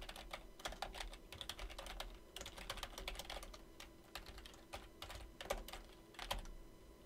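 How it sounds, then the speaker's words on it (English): Fingers type on a computer keyboard in quick, irregular bursts of clicking keystrokes that continue through the whole stretch, fairly faint and close, with no speech. "I'm just gonna type it out really quick."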